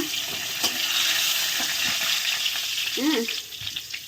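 Nigella seeds and two bay leaves sizzle in hot oil as a tempering for a fish curry, a steady close hiss of frying with a brief stir near the end.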